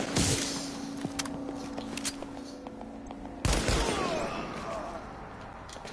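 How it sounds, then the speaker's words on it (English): Gunfire in the video game Uncharted 4, a dense stretch of game audio with a sharp, loud burst midway followed by sustained noisy shooting and rumble, no voices. "I'm gonna shoot."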